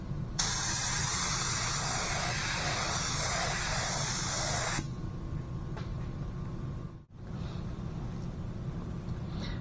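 Wood stain sprayed onto wood panels to darken them, a loud steady hiss for about four and a half seconds near the start, then a quieter background with a brief dropout.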